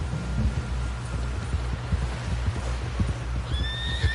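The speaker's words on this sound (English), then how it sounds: "Someone help John down off this horse." A horse neighs loudly near the end over a steady beat of hooves clip-clopping at a gallop in the video game Red Dead Redemption 2, with no talking.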